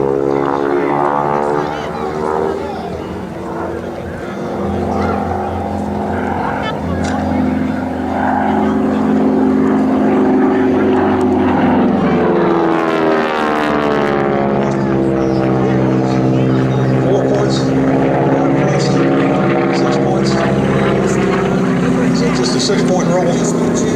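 A T-6 propeller plane flies aerobatic point rolls at an airshow, a continuous droning engine and prop note that swells and shifts in pitch as it passes. A commentator talks over it.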